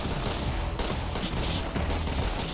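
Dense, continuous gunfire in a Roblox shooter map, rapid overlapping shots forming a loud, unbroken fusillade with automatic-weapon bursts, close and without pause.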